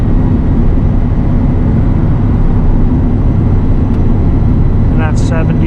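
A 24-year-old 8.1-litre gas V8 truck engine towing a heavy trailer drones loudly and steadily from inside the cab while climbing toward a 4,000 RPM shift, with a short voice near the end.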